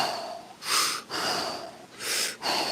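Two big, deep breaths taken while lowered in a kneeling push-up, each a close, airy rush of inhale and exhale, clearly audible against a quiet room.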